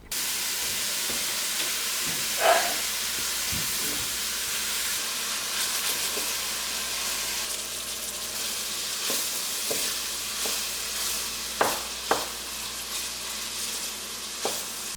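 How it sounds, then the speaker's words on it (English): Sausage sizzles loudly in a pot over medium heat, a constant frying crackle and hiss punctuated by occasional scraping taps of a spoon breaking up the meat, close by and without talk. "Add in the sausage and use a spoon to break it up and cook it."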